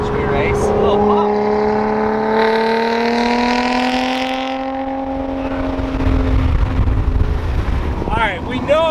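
Lotus sports car engine revving up through a long rising pull, loud and close, with crackling exhaust pops near the end; voices talk over it.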